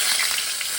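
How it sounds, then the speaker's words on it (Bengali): Bay leaves crackle and sizzle in hot oil for tempering, a brief dense hiss heard close and alone. "এরপর আমি এর মধ্যে তেজপাতা ফোড়ন দেব"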